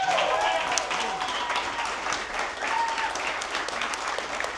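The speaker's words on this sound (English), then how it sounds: "everybody give a round of applause for Joey" A live event crowd in Austin gives a steady, full round of applause, a dense wash of clapping holding for several seconds with a few voices and whistles rising within it.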